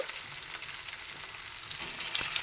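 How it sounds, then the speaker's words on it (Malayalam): Shallots fry in hot oil with mustard seeds and coconut, a soft, even sizzling hiss with faint stirring ticks, steady and moderately quiet with no voices. "ഇനി ഞാൻ കൊച്ചുള്ളി ഇട്ട് കൊടുക്കും"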